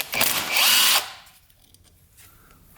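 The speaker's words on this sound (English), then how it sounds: "So we're going to start by taking some of these bolts out." Power drill or impact driver whirring for about a second as bolts come out of a 2-stroke dirt bike, loud and close, then a quiet workshop with faint handling clicks afterward.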